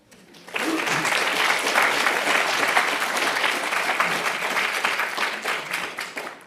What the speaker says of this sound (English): You're applauding a video, everyone.